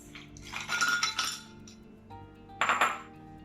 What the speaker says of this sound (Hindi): और फिर इसके बाद आएगी आइस।